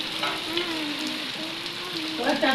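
Dense, steady hiss of heavy rain in a village, sizzling like frying and continuous throughout, with a faint tonal hum underneath and brief louder splashy bursts near the end.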